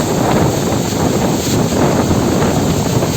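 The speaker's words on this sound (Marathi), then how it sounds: "माझ्या आवाजापेक्षा पाण्याचा आणि हवेचाच आवाज आहे" Manche waterfall near the Vyaghreshwar temple in Devgad, Sindhudurg, gives a steady, loud roar of falling water from a great height, mixed with gusting wind buffeting the microphone, continuous throughout with no voice.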